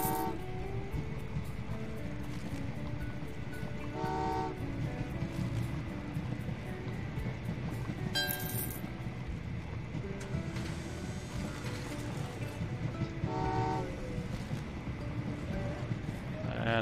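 Trains in the video game Train Valley 2 produce a continuous mechanical rumble with clattering, ratcheting game effects and a few brief chimes layered over it, steady and moderately loud throughout.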